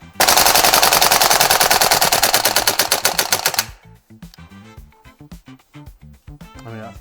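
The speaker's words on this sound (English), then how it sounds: "Let's try this out on full auto." A VFC AV74M gas blowback airsoft rifle fires a loud, rapid full-auto burst of evenly spaced cracks that lasts several seconds, followed by scattered clicks and mechanical handling noises.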